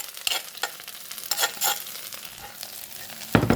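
Field rat stir-fried with holy basil in a pan, a dry sizzle broken by several sharp scraping stirs of the spatula, close up and with no talk over it.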